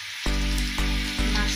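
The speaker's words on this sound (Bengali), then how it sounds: "মাছটা আমি একদম লালচে কড়কড়ি করে ভাজবো।" Rohu fish pieces frying in hot oil in a pan over high heat, giving a loud, steady, close sizzle with a few brief crackling pulses and no speech.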